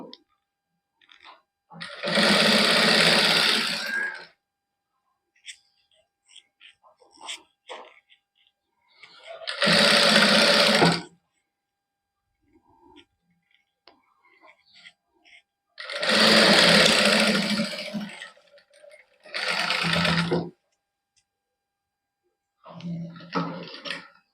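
A sewing machine stitches a plain suit in several loud bursts of rapid whirring, each a few seconds long, separated by quiet pauses with faint handling noises.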